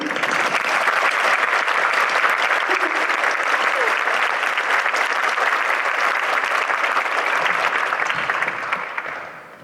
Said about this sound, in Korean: 박수를 한번 쳐주도록 해요.